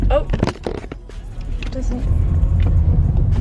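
A car drives on the road with a low steady engine and tyre rumble building inside the cabin, while a person talks over it at first.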